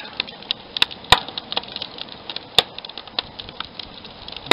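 A campfire crackles nearby with frequent sharp snaps and a few louder pops over a soft hiss, outdoors in snow.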